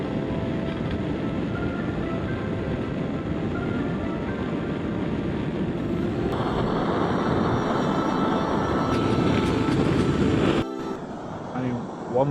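A cheap camping gas stove burner roars with a steady, loud hiss like a jet, running continuously outdoors, then shifts in tone near the end with a brief clatter.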